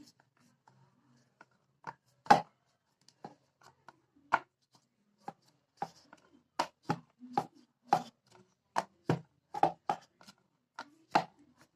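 A rolling pin works a small ball of maida dough into a thin chapati on a board, giving irregular dry knocks and taps that quicken toward the end against a quiet background.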